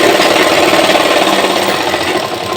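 Sewing machine running steadily while stitching a seam on a large, heavy 42-hip-size pant, a continuous loud mechanical whir with no pauses and no talk.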